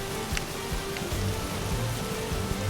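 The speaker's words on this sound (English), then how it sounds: "Starting to rain out here." Rain falls outdoors at night, a steady dense patter on surfaces with occasional louder drips, filling the scene without any voices.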